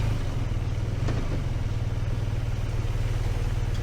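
A 2024 BMW R12 Option 719 boxer-twin motorcycle runs with a rough, steady low throb at idle, loud and close, with engine pulses unbroken and no talk.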